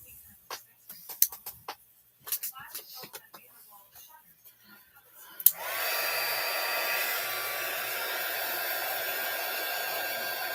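After a few seconds of light paper rustling and taps, a hair dryer switches on with a click and blows journal pages dry in a loud, steady hiss that runs to the end.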